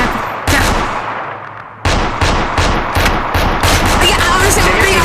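Loud, dense gunfire inside the VRChat video game: rapid automatic bursts fill the whole span, cutting out briefly before resuming in a close, sustained barrage.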